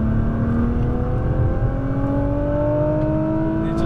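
Nissan GT-R Premium accelerating hard on a race track, engine note rising steadily in pitch through the gears from inside the car, loud and continuous with no talk.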